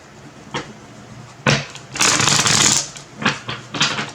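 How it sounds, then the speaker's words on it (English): Tarot cards riffle and flap in a few short bursts, with one longer shuffle in the middle, close up and with no talking. "And one more shuffle."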